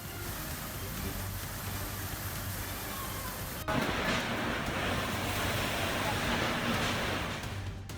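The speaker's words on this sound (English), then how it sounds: "The wind howls, the rain pours, the storm hits New South Wales with ferocity." Roaring gusts of wind batter the microphone with a dense wash of pouring rain during a storm in New South Wales, growing louder and harsher partway through.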